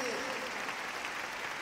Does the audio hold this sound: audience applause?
yes